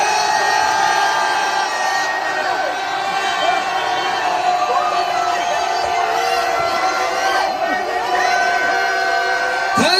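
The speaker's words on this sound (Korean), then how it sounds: "맞서 싸울 자 3초간 함성을 질러주십시오." A large crowd at a political rally in Seoul keeps up a sustained roar of shouts and cheers, with whoops and a speaker's amplified voice mixed into the dense, loud noise.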